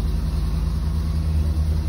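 Engine of a big U-Haul moving truck running, a steady low rumbling drone heard from inside the cab, continuous and fairly loud with no talk.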